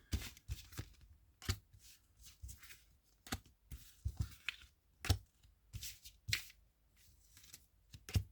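Oracle cards are shuffled in uneven bursts of soft riffles and slaps, close and fairly quiet, with no talking.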